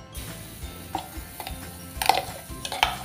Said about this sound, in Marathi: आता हे खोबरं टाकल्यानंतर आपल्याला लगेच असं हे मिक्स करून घ्यायचं आहे